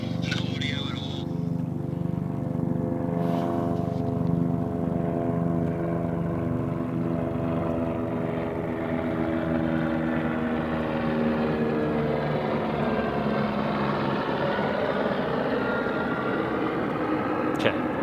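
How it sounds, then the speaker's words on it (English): Near Lake Johnson, a helicopter passes overhead with a steady, loud, throbbing rotor drone that gradually shifts in pitch as it moves past and fills the whole stretch. "helicopter flying over my head"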